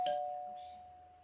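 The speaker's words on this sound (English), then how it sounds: "That's my doorbell." A doorbell chimes once with a clear, sustained electronic tone that rings out and slowly fades in a quiet room.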